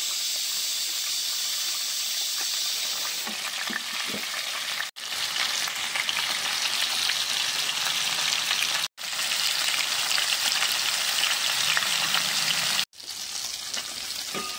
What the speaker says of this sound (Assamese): কেৰাহীখনত তেল দি দিছোঁ, মাছখিনি ভাজি ল'ব লাগিব।